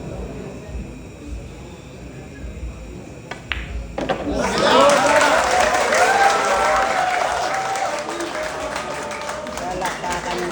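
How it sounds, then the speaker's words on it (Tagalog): A crowd at a basketball game in Surigao breaks into loud, sustained applause and cheering after a few seconds of quieter chatter, with a voice talking over the noise. "Palakpakan yung crowd natin dito sa Surigao."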